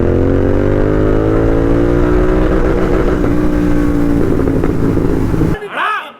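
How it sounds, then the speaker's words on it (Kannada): A Royal Enfield Continental GT 650 twin-cylinder motorcycle accelerates hard in third gear, its engine note rising steadily and loudly for about five seconds before cutting off abruptly into brief wind and voice. "ಥರ್ಡ್ ಗೇರ್ ಅಲ್ಲಿ ಒಂದು ಫುಲ್ ಕೊಡುತ್ತೆ ನೋಡಿ ಗಾಡಿ ಮಾತ್ರ."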